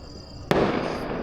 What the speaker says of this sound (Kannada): ಸೂಡು ಪಟಾಕಿ ಹೊಡಿತವ್ರೆ